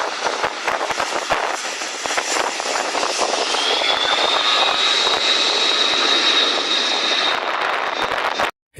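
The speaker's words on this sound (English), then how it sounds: "let alone land an aircraft like this C-130 Hercules" A C-130 Hercules lands beside a lake, a loud, close, continuous roar of its engines. A rising whine holds through the middle and the sound cuts off abruptly at the end.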